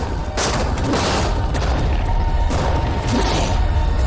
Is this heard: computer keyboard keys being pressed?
no